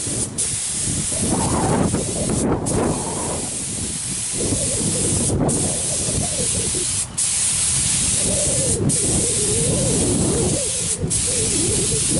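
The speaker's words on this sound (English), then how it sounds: "I'm taking a little bit more liberty of spraying it a little heavy" Paint spray gun hissing steadily while coating a car fender laid flat, a continuous loud close spray broken by several brief pauses between passes.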